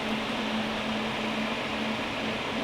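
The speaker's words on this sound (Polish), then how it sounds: "To jest rekuperator z chłodnicą. O, teraz słychać bardzo jak chodzi. Słychać wentylatory." A heat recovery ventilation unit fitted with a glycol cooler runs with its fans on, producing a steady, airy whoosh with a constant low tonal hum underneath. The sound is close, even and unbroken, with no talking.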